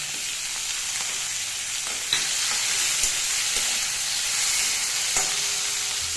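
Prawns, rubbed with salt and turmeric, fry in hot oil with garlic and a green chilli, giving a steady, dense sizzle with a few sharp pops and crackles throughout, close and with no voices.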